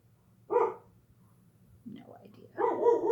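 A dog barks in two short bursts with a quiet pause between, fairly close and indoors, against a low steady hum, apparently reacting to garbage collectors outside.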